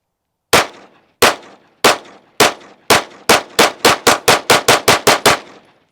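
A Staccato HD C3.6 pistol fires SuperVel 115 grain rounds, about fifteen sharp loud shots, spaced at first and then coming in a fast, evenly paced string.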